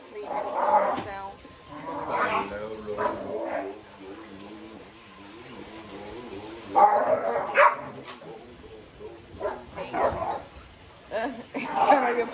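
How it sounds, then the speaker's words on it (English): Puppies yipping and barking in short bursts, close by, mixed with people talking over and between the barks. "Them puppies down here showing out, y'all."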